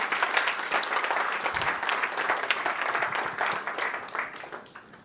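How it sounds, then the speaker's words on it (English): An audience at a summit keynote dinner applauds the speakers steadily, a dense wash of many hands clapping that stays strong and then begins to taper toward the end. "Can we give them a round of applause, please?"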